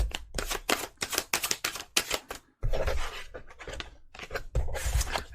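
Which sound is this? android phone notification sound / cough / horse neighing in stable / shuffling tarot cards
shuffling tarot cards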